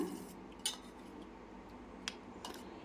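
A spoon stirs ginger curry pickle in a pan, making a few faint clinks and scrapes over quiet background with no talking.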